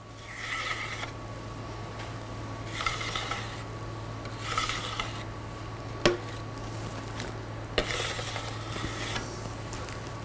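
A pastry tool scrapes excess coating off a chilled dessert shell in a series of rhythmic, rasping strokes, repeated about four times over a low steady hum, with a couple of sharp taps between them.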